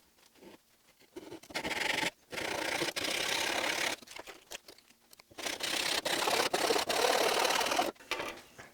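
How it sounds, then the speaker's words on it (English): A hand saw cuts through a workpiece clamped to a table, giving bursts of raspy back-and-forth strokes broken by short pauses, close and fairly loud. "we're going to use a hand saw to cut it"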